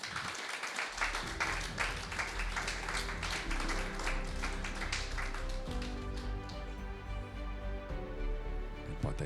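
Audience applause at the 2023 Saules Laivas adult non-formal education award ceremony, dense clapping that fills the first half and then thins out beneath music.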